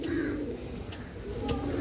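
Several pigeons in a loft coo softly and continuously nearby, a low murmuring drone throughout.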